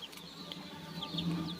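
Desi hens on a small farm cluck in a low, steady murmur with a few brief sharper calls, fairly close and without any voices.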